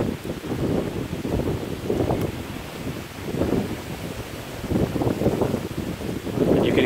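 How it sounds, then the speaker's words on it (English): Gusty wind blows across a mountainside above a Pu'er tea garden on Bulang Mountain, Yunnan, after a night storm, roaring in steady, loud rushes and buffeting the microphone. "you can hear that it's still pretty windy"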